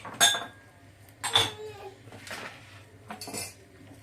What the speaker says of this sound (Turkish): Şurada iki tane bulaşık var makineye düzülecek.